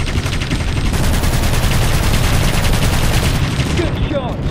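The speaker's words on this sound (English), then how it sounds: "I'm just having fun, like, shooting at this turret" Rapid, continuous machine-gun fire aimed at a turret in an aviation video game, loud and close, with fast, even bursts running without pause throughout and faint talk underneath.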